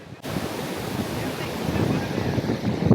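Steady roar of rough surf on White Beach, Boracay, with broad wind-blown noise, waves rolling in continuously and close, no clear gaps between them.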